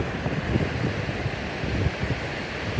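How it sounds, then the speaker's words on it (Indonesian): Strong wind buffets the microphone beside a river dam, a continuous rough rumbling gust with fluctuating intensity and no talking. "Terasa banter banget anginnya."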